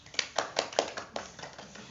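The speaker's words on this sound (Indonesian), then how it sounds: "kita tepuk tangan dulu" An audience claps along at a youth reproductive health session, a short run of even, fairly quiet claps in a steady rhythm.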